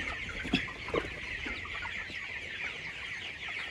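Several chickens cluck and squawk at a moderate distance inside a crowded poultry farm shed, with a couple of sharper calls early on over a busy barnyard murmur.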